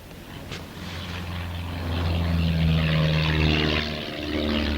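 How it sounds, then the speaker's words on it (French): A propeller airplane flies overhead, its engine drone steady and rising in loudness as it passes near, the low throbbing hum filling the street scene with no talk. "L'avion vole rue de Mont-Blanc."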